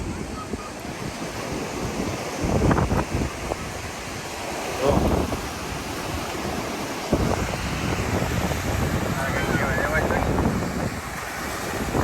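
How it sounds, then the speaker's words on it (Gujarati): Sea waves wash onto the beach at Mahuva in repeated surges, with wind buffeting the microphone throughout and a few louder swells breaking every couple of seconds. "અમે તો દરિયા કાંઠે એન્જોય કરીએ છીએ"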